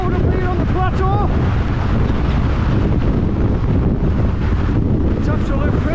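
Strong mountain wind of about 60 mph buffets the microphone on a Lake District plateau near Great Dodd, a loud, continuous roaring rush that fills the whole clip without a break.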